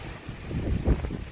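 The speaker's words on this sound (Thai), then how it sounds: "ลมหนาวมาแล้วนะครับผม" Strong cold wind blows outdoors by a pond, a steady rough rumbling rush with gusts buffeting the microphone and no voices.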